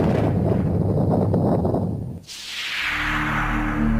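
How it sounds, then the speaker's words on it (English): A massive explosion rumbles in a remote area of Siberia, with a dense low roar that drops away and then gives way to a rushing, hissing blast wave and a deep sustained rumble. "In a remote area of Siberia, the morning calm was rocked by an explosion."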